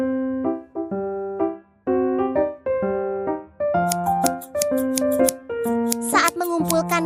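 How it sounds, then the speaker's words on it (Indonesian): Quick scissor snips cutting through leaves in a cartoon, repeating in short bursts over a bouncy, plucked tune; the snipping grows busier and brighter near the end. "Suara gunting memotong daun."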